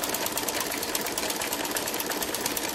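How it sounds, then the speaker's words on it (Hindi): A sewing machine stitches a salwar at home, its needle chattering in a fast, even rhythm that runs steadily and alone for nearly three seconds. "शांति शांति से सिलनी, जल्दी जल्दी नहीं सिलनी।"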